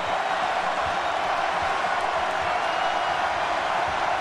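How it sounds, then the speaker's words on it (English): Arena crowd noise at an NCAA basketball game with North Carolina State, a steady, dense roar of many voices reacting after a missed free throw, loud and continuous with no clear peaks. "he'll hear from the crowd after that"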